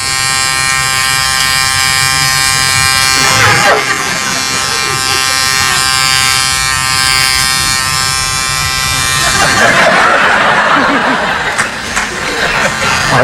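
A man imitates an electric razor with his voice, acting out Mr. Bean shaving: a loud sustained buzzing drone, close and steady, with chuckles and laughter breaking in.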